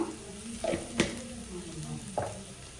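Cumin seeds sizzling in hot oil as they are added to a pan give a short, soft crackle, broken by a few sharp clicks from a spoon or pan.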